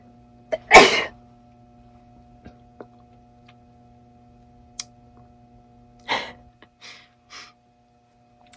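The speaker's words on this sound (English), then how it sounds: "I'm gonna have a sneeze attack." A sharp, loud sneeze bursts out near the start, followed several seconds later by a second sneeze and a few short sniffs and breaths in an otherwise quiet indoor room.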